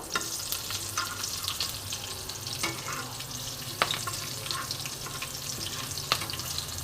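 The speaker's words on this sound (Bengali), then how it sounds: "এবার আমি তেলের মধ্যে সামান্য পরিমাণে সাদা জিরে ফোড়ন দিলাম আর তার সঙ্গে দেব দু তিনটে চিরা কাঁচা লঙ্কা এবার ফোড়নটা আমি একটু ভালো করে ভেজে নেবো" Cumin seeds and slit green chilies fry in oil with a continuous soft hiss and crackle, a few sharp pops standing out, heard alone at moderate level.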